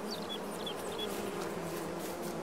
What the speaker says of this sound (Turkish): Tatlı arılarımız burada.